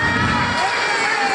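A hall audience at the Raja Annamalai Chettiar Hall gives loud, dense applause mixed with cheering and shouts, a continuous close wash of sound.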